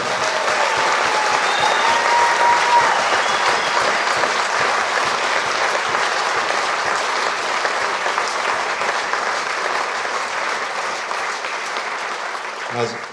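Sustained crowd applause at a sheep shearing world record event on a farm, loud and steady throughout with dense clapping, easing slightly toward the end.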